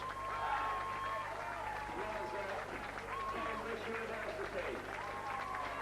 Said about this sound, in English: all the crowds now on their feet applauding the Warriors out there